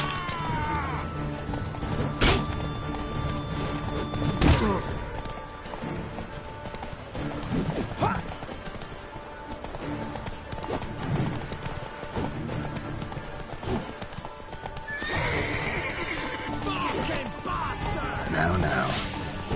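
Roach, Geralt's horse in The Witcher 3, gallops with rapid, continuous hoofbeats over a sustained rumble, with occasional sharp impacts and a brief whinny-like cry near the end.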